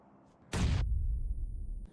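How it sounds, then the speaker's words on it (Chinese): A hand grenade explodes in a snowy night battle royale game, one sudden sharp blast followed by a long low rumbling tail that cuts off abruptly. "不好，手雷的声音，"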